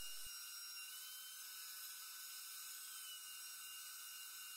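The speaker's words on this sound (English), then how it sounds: "I used the same method with the router on the slanted shelf dados." A router cutting slanted shelf dados in plywood gives a continuous high-pitched whine, steady and loud from start to finish with no talking.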